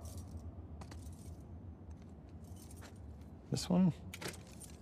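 Keys jangling and scraping in a lock in the video game The Last of Us Part II, a soft metallic rattle ending in a louder clatter, with a brief spoken question and faint background ambience.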